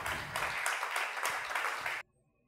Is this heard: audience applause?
yes